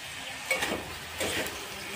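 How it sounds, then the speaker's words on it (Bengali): Marinated chicken pieces frying in a pan with onion and ginger-garlic paste, giving a soft steady sizzle with a couple of brief stirring scrapes, close and moderately quiet with no talking. "এই যে মাংসটা কষে নিচ্ছি, প্রায় কষা হয়ে গেছে।"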